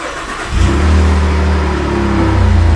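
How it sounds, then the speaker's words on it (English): A truck engine cranks and catches, then idles and runs loud and close with a steady mid-pitched drone, briefly revving as it is shifted into reverse. "Start the truck up, put it in reverse."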